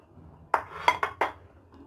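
Two drinking glasses are set down on a kitchen counter during smoothie preparation, giving four sharp, bright clinks in quick succession, close and clear with no talking.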